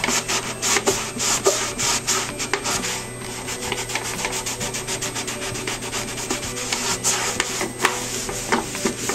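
A cloth rubs sticky hand-oil dirt off a wood furniture finish in quick, repeated scrubbing strokes, close up and continuous, with no one talking.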